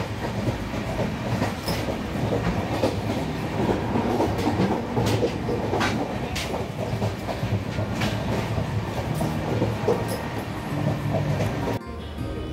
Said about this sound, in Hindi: हम लोग का ट्रेन है, ट्रेन चेयर कार रहेगा और बहुत ही मस्त ट्रेन है